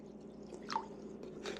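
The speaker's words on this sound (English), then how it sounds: "Get this distilled water into the bowl." Distilled water dribbles from a small suction tube into a bowl for a soil test, a few soft, close drips and squishy splashes in an otherwise quiet room.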